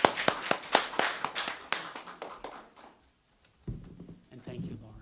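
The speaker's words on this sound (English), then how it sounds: "let's give her one more round of applause to our musicians today." A small congregation gives a brief round of applause for the musicians at a church service, the sharp claps sparse and distinct, tapering off within about three seconds, followed by a faint thump and some quiet murmuring.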